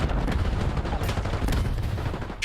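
Dense, continuous automatic gunfire crackles through a competitive Call of Duty match between Vancouver Surge and Royal Ravens, loud and close, with overlapping bursts and no voices.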